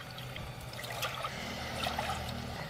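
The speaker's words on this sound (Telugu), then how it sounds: "ఇగో మినుముల పాశం వండుకోవడానికి 3 కప్పుల నీళ్ళు పోసుకుందాం." Three cups of water poured into a pot for cooking black gram porridge, a soft, quiet trickling stream running steadily without pause.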